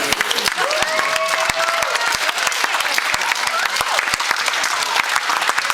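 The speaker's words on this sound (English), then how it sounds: "let's have a round of applause" Wedding guests applaud during a best man's speech, a steady, dense round of clapping from a room full of people, with faint voices and a few whoops mixed into the crowd noise.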